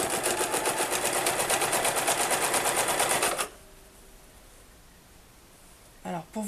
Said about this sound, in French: Et on va venir coudre ici au bord, tout simplement. Donc on se met bien sous la machine